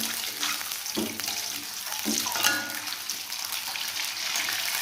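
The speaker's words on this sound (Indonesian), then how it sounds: "Telur kita goreng sampai berubah warna." Eggs fry in a pan for a yellow-broth Indonesian egg dish, giving a steady, close sizzle punctuated by a few soft utensil knocks and crackling pops.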